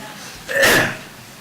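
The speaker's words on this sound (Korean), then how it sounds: "기침해서 죄송합니다." A single short cough from a pastor during a church sermon, one abrupt burst rising and fading in about half a second, close and fairly loud against a quiet room.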